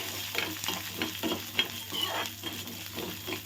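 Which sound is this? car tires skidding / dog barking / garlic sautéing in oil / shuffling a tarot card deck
garlic sautéing in oil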